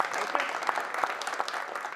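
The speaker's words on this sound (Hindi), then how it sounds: "एक बार जोरदार ताली हो जाए।" Audience clapping at a Haryanvi New Year evening program, a fairly soft, steady patter of many hands with a few sharper claps standing out over two seconds.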